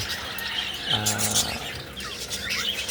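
Caged parakeets chirp and tweet in quick bright bursts over a low background hum, with several birds calling close by.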